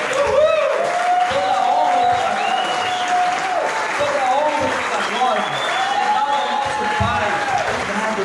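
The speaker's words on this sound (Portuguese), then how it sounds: "nós vamos agora dar uma grande salva de palmas pra Jesus" Large congregation clapping at a therapeutic community gathering, a full continuous round of applause with cheering voices and whoops rising over it throughout.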